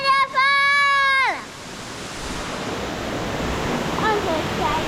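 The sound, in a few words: waterfall at Strubklamm, Salzburg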